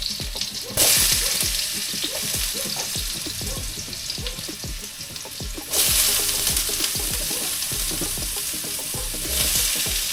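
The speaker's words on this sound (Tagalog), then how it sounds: "So, iprito ko muna tong patatas sa carrots." Potatoes and carrots fry in a pan with a steady, busy sizzle, punctuated by scraping and stirring clatter throughout, and the hiss swells louder at moments as the pieces are moved.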